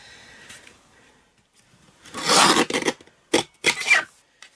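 Card stock being cut through by hand for an Easter treat holder: soft scraping and rasping that builds into several quick, close bursts of cutting noise, with no voices.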